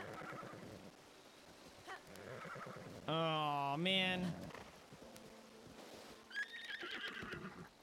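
A brown horse in Zelda: Breath of the Wild lets out one loud, wavering whinny midway, preceded and followed by hoof clops and a player's brief spoken remark.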